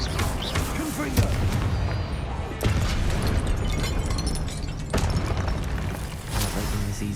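Confringo fire-blast spells exploding in Hogwarts Legacy, several loud booming bursts spaced a couple of seconds apart over a dense, busy battle din, with a voice speaking during the clip.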